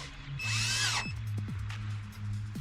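Cordless power drill with a bit snugging the bolts of a Rad Power Bikes Rad Rover 5 cargo rack: one loud, close whirring burst with rising pitch, followed by quieter clicks and short mechanical knocks.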